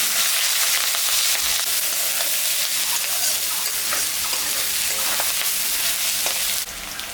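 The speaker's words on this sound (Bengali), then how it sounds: "পেঁয়াজটা ভাজা ভাজা হয়ে গেছে" Steady, loud sizzling of chopped onions frying in hot oil, a dense crackling hiss that keeps going without a break, with no voices.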